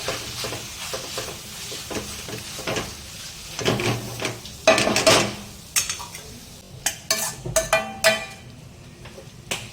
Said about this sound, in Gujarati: હવે આપણે મિક્સ કરી લઈશું સારી રીતે.